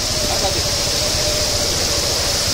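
A vehicle drives along a road near the Savatkada waterfall, giving a steady, continuous rumble and road noise with a low hum throughout and no clear pauses.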